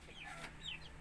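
A mother hen being separated from her chicks gives two brief, soft clucks, close by over a faint steady hum, with no one speaking.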